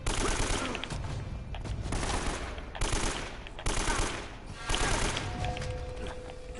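Automatic weapon fire rattles in long repeated bursts during a gunfight in the video game Uncharted: Drake's Fortune, loud and dense with short pauses between volleys.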